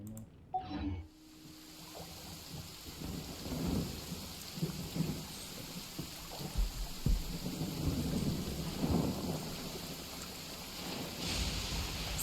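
Rain patters steadily while low rolling thunder rumbles repeatedly, building and fading in long waves, in a thunderstorm in the video game Genshin Impact.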